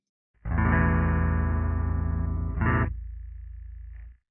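A guitar chord through a Quad Cortex pitch shifter set a full octave down rings loud and thick, then drops into a deep, synth-like low tone that fades out.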